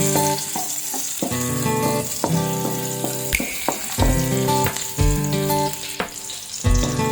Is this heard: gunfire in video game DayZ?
no